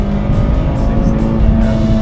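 A 2015 Mitsubishi Lancer EVO MR with a 2-liter turbocharged four-cylinder and twin-clutch gearbox drones loudly and steadily at close range, engine note holding under acceleration with no voices.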